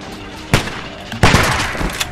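Gunfire bursts out twice in The Walking Dead video game, loud and close, with a short crack followed by a longer sustained volley.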